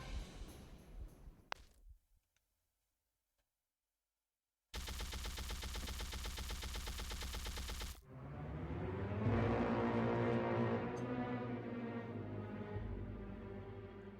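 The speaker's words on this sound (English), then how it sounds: "Yep, the mortar." Heavy mortar fire in the airship combat game Hammerfight: a dense, loud burst of rapid blasts lasting several seconds after a brief silence, then giving way to a rumbling, clattering wash of battle noise.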